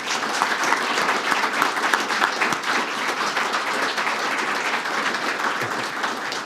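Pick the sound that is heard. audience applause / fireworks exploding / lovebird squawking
audience applause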